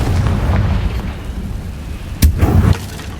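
A Confringo spell explosion in the Hogwarts Legacy video game, a sharp crack that gives way to a short, deep rumbling boom over a low, steady in-game background.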